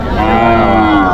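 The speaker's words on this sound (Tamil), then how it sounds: "ஒரு ஜோடி பொட்டை மாடு" A cow at a cattle market moos loudly and close up in one continuous, strong bellow that fills the whole moment.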